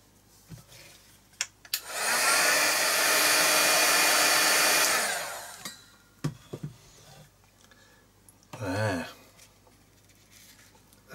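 Heat tool blowing hot air to melt embossing material on a mixed media art tag: a steady loud whooshing roar from about 2 to 5 seconds, then quiet with a few small knocks and a brief rustle near the end.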